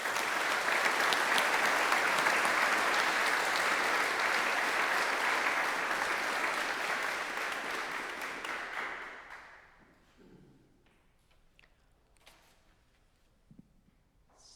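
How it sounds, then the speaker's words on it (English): An audience at a church worship service claps loudly and steadily for several seconds, then the applause fades out, leaving a quiet room with a few faint shuffles and stray claps. "I would like to have a big round of applause for my ministry team and my supervisor"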